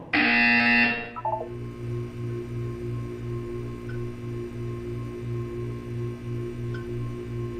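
A loud, harsh buzzer in Portal 2 blares for about a second, then a soft electronic beep pulses steadily in a regular rhythm.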